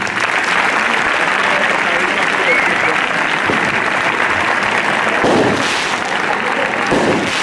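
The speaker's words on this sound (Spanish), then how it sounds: "le damos un aplauso," Crowd applause at a bullfighting livestock-breeders' competition in Xirivella, Valencia: a loud, dense, continuous wash of many hands clapping that holds steady throughout, with a few louder bursts toward the end.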